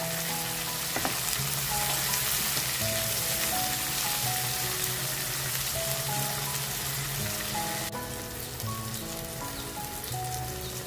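Tomatoes cooking in a pan for a quail chops dish give off a steady, dense sizzle and crackle that stays level and close throughout, with no talking.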